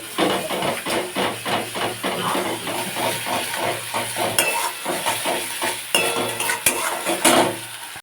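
Ground chilli, cumin and coriander powders stirred into oil with fried onion, garlic and ginger for a curd fish dish, giving steady scraping strokes and a soft sizzle, close and continuous with a few metallic clinks.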